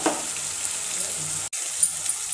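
Tomatoes with turmeric, red chilli powder and spices sautéing in a pan for Maggi masala pasta, a soft steady sizzle with faint low voices under it and a brief dropout midway.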